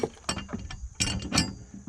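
Tightening a bolt and washer on a finish mower, with irregular close metallic ratcheting and clinking in short bursts, fairly quiet.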